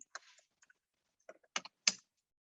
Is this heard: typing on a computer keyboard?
yes